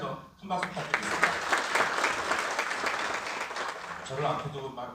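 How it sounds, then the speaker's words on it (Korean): An audience at a political lecture in Jeju claps in a full, sustained round of applause as the speaker leaves the stage. A voice talks over the start and again near the end. "내려가실 때 다시 한번 큰 박수 부탁드리겠습니다"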